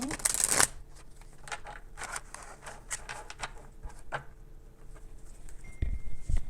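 A deck of tarot cards shuffled in hand, with a quick riffling burst at the start followed by softer repeated card flicks and slides, close and clear under quiet room tone.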